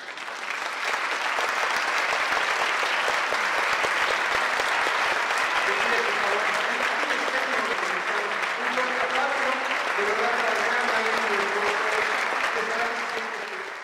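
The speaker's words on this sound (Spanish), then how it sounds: "con un minuto de aplausos." A crowd gives a long ovation in farewell to a late master artist, with continuous dense clapping throughout and voices murmuring underneath in the second half.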